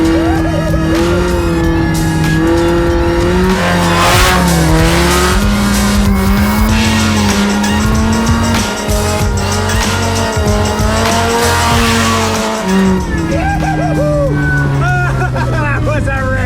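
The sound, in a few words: Mazda Miata doing donuts, tires squealing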